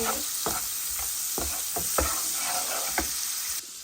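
Potatoes frying in a pan while being stirred, with a steady close sizzle beneath scraping stir strokes and a few light knocks against the pan, no talk.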